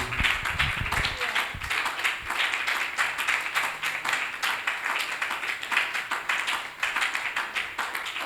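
A church congregation claps and applauds in praise of Jesus, a dense, steady patter of many hands that carries on throughout, with a few louder thumps near the start.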